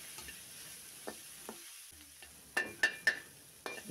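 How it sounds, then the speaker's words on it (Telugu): Ginger garlic paste fries in a pan with a soft, quiet sizzle, broken by a few scattered spatula clinks and then a quick cluster of sharper scrapes near the end; no one speaks. "వేసుకొని పచ్చి వాసన పోయేదాకా వేపుకోవాలండి"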